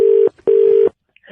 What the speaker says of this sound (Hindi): एक आखिरी बार फिर से मिला रहा हूँ।